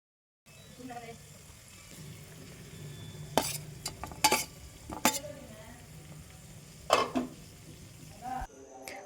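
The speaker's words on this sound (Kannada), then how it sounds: "ಅದನ್ನು ಫ್ರೈ ಮಾಡಿಕೊಂಡು 3 ಮೆಣಸಿನ್ಕಾಯಿನ ಕಟ್ ಮಾಡಿಕೊಂಡು ಆ್ಯಡ್ ಮಾಡ್ಕೊತಾ ಇದ್ದೀನಿ" Sliced onions and three cut green chillies frying in a pan for biryani, a low steady sizzle broken by several sharp scraping stirs of a utensil against the pan, close by.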